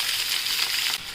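Chopped onion dropped into hot oil already crackling with mustard seeds, cumin and curry leaves for corn upma, giving a steady loud sizzle throughout.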